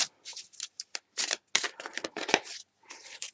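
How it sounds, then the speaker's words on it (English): Tarot cards shuffle by hand in quick, crisp riffling bursts separated by short pauses, close and fairly quiet. "You can't be shuffling cards with wax that goes so sticky"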